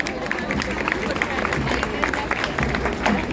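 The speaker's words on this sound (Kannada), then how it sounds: "ನಮ್ಮದೊಂದು ಪ್ರೀತಿಪೂರ್ವಕ ಪ್ರೋತ್ಸಾಹಪೂರ್ವಕವಾದ ಜೋರು ಚಪ್ಪಾಳೆ ಬರಲಿ ಬಂಧುಗಳು." A crowd applauding at an Independence Day parade in Bengaluru, Karnataka, a dense, sustained clapping and cheering that fills the whole stretch at close range.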